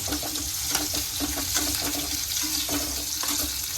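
Cashews sizzle in a frying pan during a paneer recipe, a loud, steady crackle with some wet, watery bubbling and nothing else over it.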